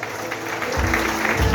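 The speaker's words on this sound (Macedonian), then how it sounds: "Аплауз за Сладжо Божанович" A crowd at a company's 30th anniversary celebration applauds for Sladjo Bozhanovich, a steady rush of many hands clapping that swells slightly, with low rumbling thuds underneath.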